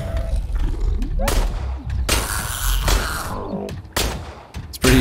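Gunfire from the video game Industria as the player shoots down robots, sharp bursts of shots scattered across the moment with mechanical clanks, under and between spoken commentary.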